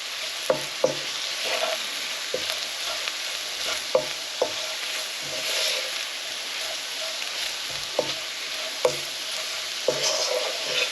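Spices toasting in a hot pan for a chicken tikka balti, a steady close sizzle with sharp scraping knocks of a spoon stirring at irregular intervals, no talking.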